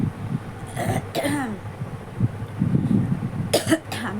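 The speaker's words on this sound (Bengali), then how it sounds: "মানে কাশি হচ্ছে" A few sharp, harsh coughs come in separate bursts, close to the listener, with a low hum and quiet background noise between them.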